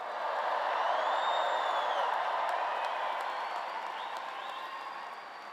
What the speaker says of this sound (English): Let's have a cheer for all Vols everywhere as loud as you can.